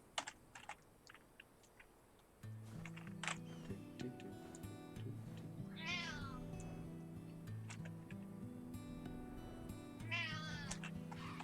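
A cat lets out two rising, wavering meows, one midway and one near the end, over steady background music and scattered keyboard typing and clicks.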